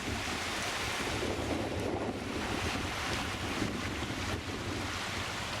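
Steady broadband rush of flowing water from Mineral Creek, continuous and fairly loud, with a wind-like hiss and low rumble throughout.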